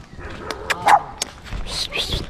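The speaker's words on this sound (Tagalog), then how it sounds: "Yung aso." A dog named Yumi gives a few short barks and yips nearby, brief bursts mixed in with people chatting casually around it.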